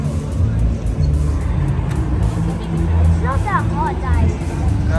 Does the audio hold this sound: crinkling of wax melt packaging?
no